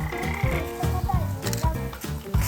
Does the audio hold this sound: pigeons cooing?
no